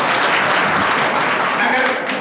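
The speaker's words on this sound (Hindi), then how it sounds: "बहुत बढ़िया, अपने लिए ताली फिर से बजा लीजिए।" Audience at a Hindu religious discourse gathering of the Nagda Brahmin community in Khachrod claps together, a steady dense wash of applause lasting throughout, loud and close with no pause.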